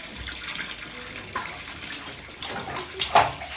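Solar-heated hot water pours from a tap into a tub, a continuous splashing rush with small fluctuations, nearby and moderately loud.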